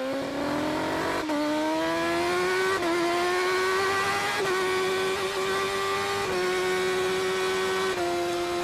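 BMW HP4 superbike at full race pace on an Isle of Man TT lap, heard onboard: a loud, screaming engine climbing in pitch through each gear, with sharp drops at roughly five quick upshifts.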